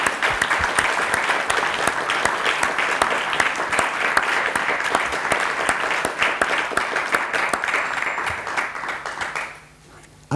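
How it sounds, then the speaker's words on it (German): Audience applause at an award ceremony honoring a graduate, a dense, steady wash of many hands clapping at full strength for about nine seconds before fading out quickly at the end. "Ich glaube, das ist ein Applaus wert."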